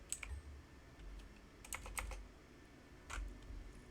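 Typing on a computer keyboard during a Space Engineers game session, a few faint, close, irregular key clicks in small clusters with quiet gaps between them.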